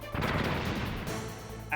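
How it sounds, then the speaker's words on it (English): Grenade explosions in the video game Metal Gear Solid, a loud, broad, rumbling blast that fills the short clip and decays, followed by a sharp bright burst near the end, with a voice audible underneath. "Those are grenades."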